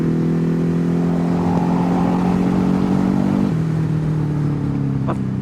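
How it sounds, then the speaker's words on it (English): A Ducati HyperMotard motorcycle engine drones loudly and steadily while riding, a strong buzzing hum that holds pitch, then drops slightly midway as the rider shifts or eases off, with wind rushing underneath. "It's just too much fun blasting this engine. It's got so much torque"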